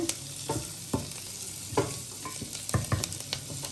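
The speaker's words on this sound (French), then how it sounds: "Et là, elle fait revenir des oignons." Onions fry for a potée soup, a soft sizzle broken by irregular stirring clatters and scrapes of a utensil in the pan, fairly close and quiet.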